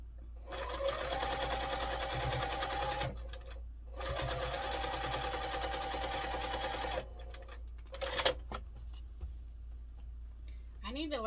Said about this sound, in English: let's get the X's block sewn up